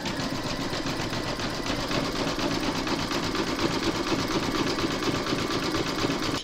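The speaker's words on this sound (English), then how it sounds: "you're now going to stitch round number 12, and that's going to zigzag around the raw edge." A sewing machine runs a zigzag stitch around the raw edge of a fabric paw-print coaster, producing a steady, continuous mechanical whir with a fast needle rhythm throughout.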